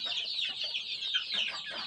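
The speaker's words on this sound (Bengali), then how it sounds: "আমার মুরগিগুলো তো একটা একটা নিয়ে দৌড়াদৌড়ি করতেছে" Native country chickens cluck and chatter in a busy, overlapping flurry as they run about, fairly faint and close by, with no speech.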